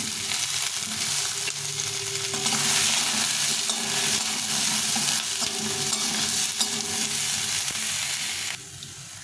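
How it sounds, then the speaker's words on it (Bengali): Eggplant frying in a little oil makes a dense, even sizzle up close, with spatula stirring underneath and a brief drop in level near the end; no talking. "এখন একটু বেগুনটা একটু ভেজে নেব। শাকের মধ্যে তেল বেশি ভালো লাগে না, এই জন্য একটু অল্প করে তেল দিয়ে এটা ভেজে নেব।"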